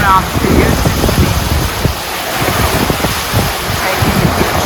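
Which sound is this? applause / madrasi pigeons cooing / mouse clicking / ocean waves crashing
ocean waves crashing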